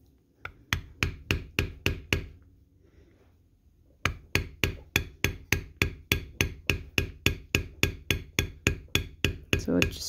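A metal bevel tool is struck on moist leather while tooling sunflowers, giving sharp, evenly spaced close taps in quick runs, a short pause, then a long steady series of strikes with even force.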